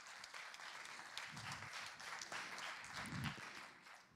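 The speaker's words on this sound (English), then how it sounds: "On peut applaudir le dernier groupe de licence deuxième année" Audience applause after the final group of second-year video game computing licence students presents at EGS 2025, a steady, moderately faint wash of clapping filling the room for about four seconds with no talk.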